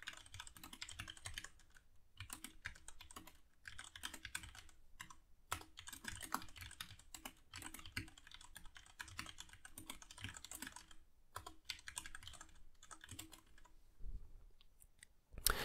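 Someone types a text comment on a computer keyboard, a steady run of quiet, close key clicks with brief pauses between bursts and no speech.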